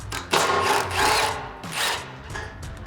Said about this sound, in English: Grab a 12mm socket, go ahead and remove all 4 of these bolts.